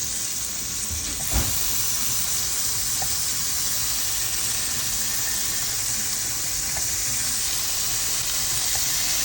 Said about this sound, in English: We're adding our shrimp